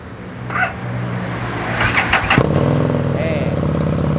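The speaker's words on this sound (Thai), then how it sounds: "คันนี้มาพร้อมกับท่อแต่งจาก TBR นะครับ เดี๋ยวเราฟังเสียงท่อคันนี้กันหน่อย" A 2015 Harley-Davidson Street 750 fitted with a TBR aftermarket exhaust starts up with a burst of cranking and settles into a loud, close, throbbing idle, with someone talking over it.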